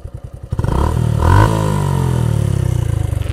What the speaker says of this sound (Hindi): रेव एक बार सुन लो कितना आता है